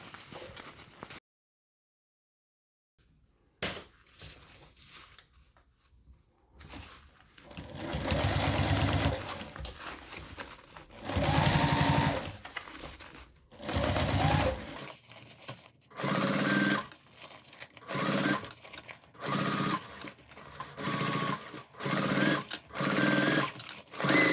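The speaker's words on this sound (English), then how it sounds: "And now we can top stitch inside here." A sewing machine top stitches a shoulder bag near the seam by the gusset, starting after a short silence with a long run, then settling into many rapid, evenly spaced bursts with brief gaps.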